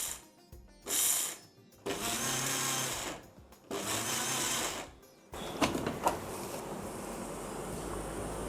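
A mixer grinder pulses cashew nuts into powder in short bursts, several whirring pulses separated by brief pauses, loud and close, followed by scraping and rattling sounds.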